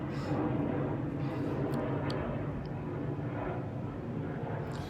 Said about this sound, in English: I'm going to let this airplane pass over because I don't know if y'all can hear me or not